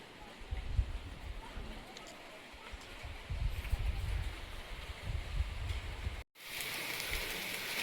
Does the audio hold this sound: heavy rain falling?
yes